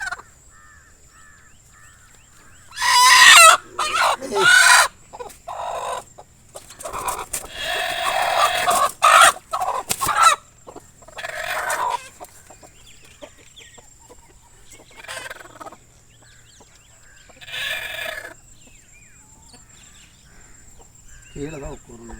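Several domestic chickens cluck and squawk close by in a brooding setup, with loud bursts of agitated calls that come and go over steady background hum, the hen settling while others cackle.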